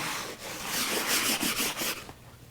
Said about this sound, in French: On prend la brosse. Action circulaire. Ah, OK. On va frotter tout le banc.